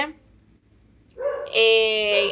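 A small dog lets out a couple of loud, high yipping barks, the second one sustained and whiny, following a brief quiet moment.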